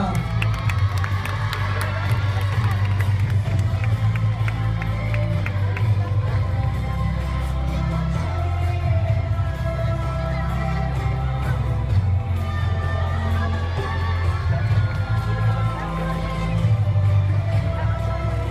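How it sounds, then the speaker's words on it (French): Spectators at an equestrian prize ceremony clap and cheer for the top-ranked junior pony riders. The crowd noise is sustained and lively, with voices and a tonal background running underneath. "je vous demanderai d'applaudir les meilleurs classés de la remise des prix CES au poney des juniors"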